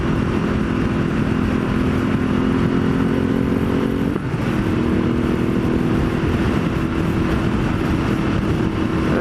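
A motorcycle fitted with a Termignoni exhaust drones steadily at cruising speed on a highway, a constant throaty engine hum with a brief dip and shift around the middle, wind noise throughout, no voices.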